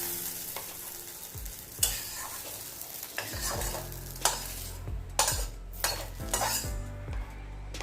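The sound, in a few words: frying okra and potatoes together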